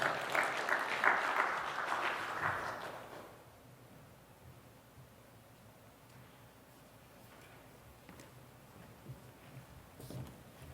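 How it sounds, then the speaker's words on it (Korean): A congregation claps in a Korean church at an early-morning dawn prayer service, a dense burst of applause for about two and a half seconds that then falls away to a quiet room with faint shuffles. "박수해 주세요."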